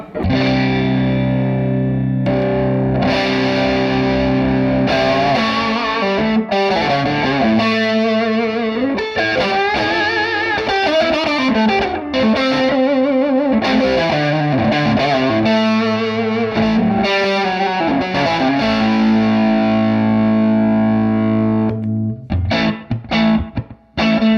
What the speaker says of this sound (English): I'll go back and forth between the bypass signal and the Pedalfarm germanium treble booster